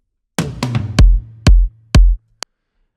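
Electronic kick drum returning to a melodic techno beat alongside toms, heard as a few deep, punchy thumps at a steady pulse with short percussive hits before them, loud and without voices.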